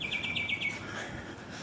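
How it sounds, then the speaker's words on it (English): Several birds chirp early in the morning, a quick run of bright, repeated high tweets that fades after under a second over a steady outdoor hum, with no talking. "Hear them birds chirping?"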